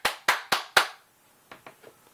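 Four sharp hand claps in quick even succession, then a few fainter softer claps trailing off, meant to switch on a clap-activated flashlight.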